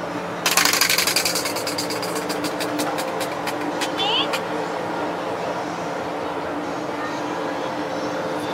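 A prize wheel is spun at a crowded event: rapid clicking ticks that slow and space out over a few seconds before stopping, heard under chatter and background hum.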